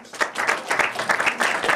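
A group of people clap together during a family dispute over house ownership, a brief dense patter of hands close by with irregular accents and no talk over it.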